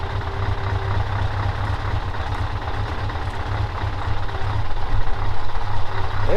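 A Scania V8 truck engine runs at idle, a deep steady low rumble that swells a little louder toward the end, heard nearby without talk.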